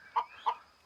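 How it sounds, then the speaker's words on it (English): Laying hens on a homestead give two short, close clucks about a third of a second apart, brief and moderately loud against a quiet background. "My chickens, my laying chickens."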